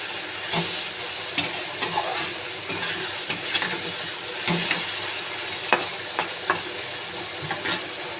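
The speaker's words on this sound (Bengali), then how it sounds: "এই মাছ কষতে কষতে সেদ্ধ হয়ে যায়" Loita fish sautés in a pan, stirred and broken up as it cooks, with a continuous close sizzle and hiss broken by frequent sharp scrapes and clicks of the spatula.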